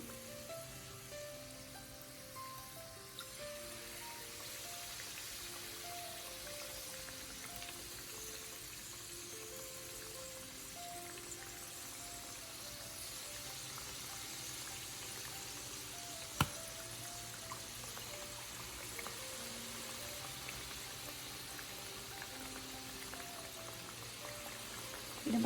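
Banana fritters (pazham pori) frying in hot oil, a steady soft sizzle and crackle heard up close throughout, with a faint melodic tone in the background and one brief knock partway through.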